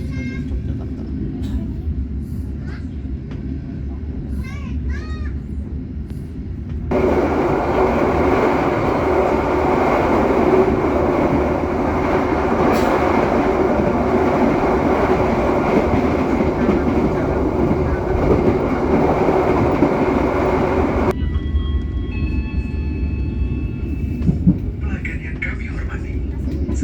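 Passenger train KA Sancaka Utara rolling between stations, a steady loud rumble of the carriage and track noise heard from inside, with a station announcement voice before and after.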